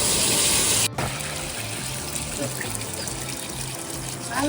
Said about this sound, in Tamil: இந்த தண்ணி தான் போய் உழுது.